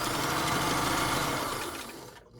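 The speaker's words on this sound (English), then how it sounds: "I always do this on my Kenmore machine, because she works hard." Vintage Kenmore sewing machine topstitching straps, a continuous close, loud motor drone that runs steadily and tapers off just before cutting out at the end.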